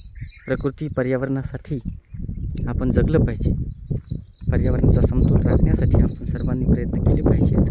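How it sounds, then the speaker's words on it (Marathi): Birds chirp in a college botanical garden with short, high, repeated tweets that come in bursts. Someone talks steadily over them, and the birds stay faint behind his voice. "पशु पक्ष्यांचा जो किलबिलाट आपण ऐकत आहात"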